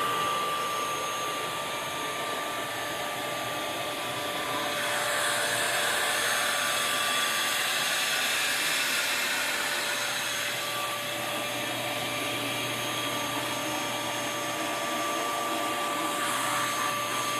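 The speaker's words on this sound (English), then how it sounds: "This is the Vacmaster. But it's just a shop vac." A Vacmaster 8-gallon 3-in-1 wet/dry shop vac runs steadily for carpet water extraction, giving a loud, continuous motor whine and airy rush with slight swells in intensity and no talking.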